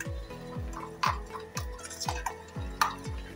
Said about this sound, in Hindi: इन सब मसालों को हमने अच्छी तरह मिक्स कर लेना है, अच्छी तरह इसको मिक्स करना है